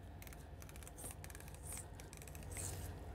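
Sharp fillet knife slicing through a coho salmon on a cutting surface, with soft repeated scraping and cutting strokes at close range and no talking.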